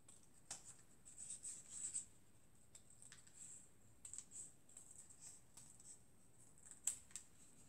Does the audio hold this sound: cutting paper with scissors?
yes